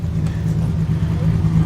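A classic Morris Minor 1000 car with an A-Series engine, seen at a vintage car tour, gives a brief low, steady engine rumble close by.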